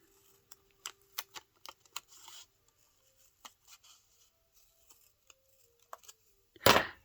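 Scissors snip through a fern in a quiet room, a scattering of short, crisp cuts and rustles, close and faint, ending with a brief louder rustle.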